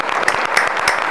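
Students in a classroom clap together, a short burst of quick, close hand claps in an uneven rhythm lasting about a second.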